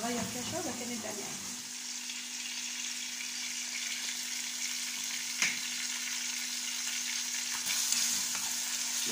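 Chicken liver and gizzards fry in a pan with a steady, close sizzle that runs alone through the whole stretch, marked by a couple of brief scrapes or clicks.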